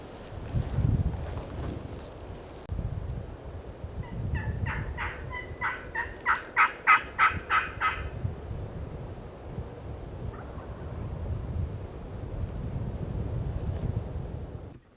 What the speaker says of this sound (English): Listen to turkeys gobble way up on the mountain behind us up there somewhere.